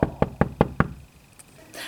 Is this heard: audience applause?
no